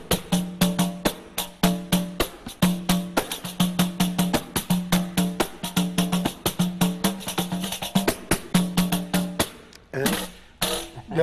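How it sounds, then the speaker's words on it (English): A samba rhythm played on a tambourine, with fast, even, driving strikes and jingles that carry loud and close through the whole passage, ending in a looser flourish. "And this is the sound of the samba."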